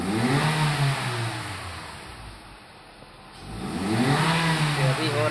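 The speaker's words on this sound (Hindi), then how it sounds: "तो अभी मैं एक्सीलेशन करता हूँ।" A Honda Civic hybrid engine revs up twice during acceleration, surging loudly, dipping in the middle, then climbing again, with a steady mid-pitched drone.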